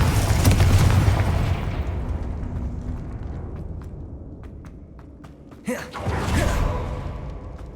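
A fiery Confringo spell explosion from the Hogwarts Legacy game opens with a heavy boom that decays over several seconds, followed by a few faint clicks and then a second sharp burst and rumble.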